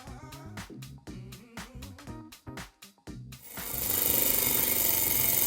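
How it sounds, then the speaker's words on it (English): Bolts ground against a brass wire brush while fixing engine belt noise on a Toyota Yaris: after a stretch of uneven rhythmic tapping, a loud, steady, hissing grind starts and holds to the end. "Grind your bolts on a brass brush"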